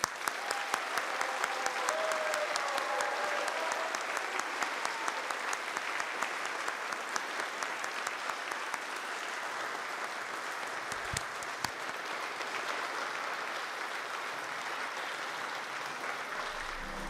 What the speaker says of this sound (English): Please join me in one more round of applause for our graduates